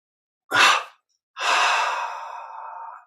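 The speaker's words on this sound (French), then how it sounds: "Expire, détente." A deep exhale at the release step of a guided relaxation exercise: a short sharp breath, a pause, then a long, fairly loud, breathy outflow that trails off slowly, close to the listener.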